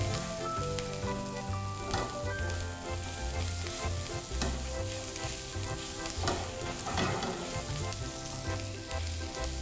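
Spinach stir-fried with garlic, black pepper and a little salt gives a steady, close sizzle with bursts of stirring, running under loud background music throughout.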